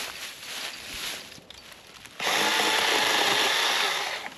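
An MZK 8-inch cordless pole saw cuts a tree branch outdoors. After two quieter seconds of faint background noise, the saw's loud, continuous buzzing rasp kicks in and runs to the end.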